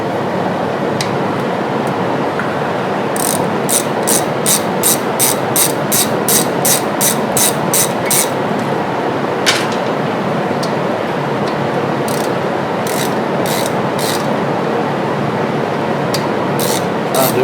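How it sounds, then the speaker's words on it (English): Brake caliper bolts are loosened on a Jeep Wrangler, with bursts of rapid rattling clicks over a constant loud hiss. "Break our bolts loose on our caliper."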